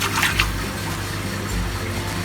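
Steady rushing water as a fish pond chamber filter drains, a continuous close wash with a few brief splashy bursts near the start and no talking.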